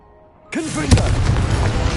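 A spell-cast blast in Hogwarts Legacy: a sudden loud boom bursts in after a quiet start, with whooshing swirls and a sharp crack, then a rumbling roar that fills the rest.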